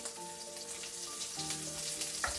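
Butter sizzling in a pan on a lowered stove flame, a soft steady crackle and hiss with faint tonal hum behind it, heard alone without talk.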